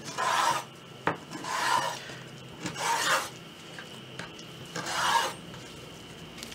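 A knife slices boiled beef tripe into pieces for tripe soup, giving four or five separate wet, rasping strokes at a steady pace, each about half a second long and close by, with quiet gaps and no talking.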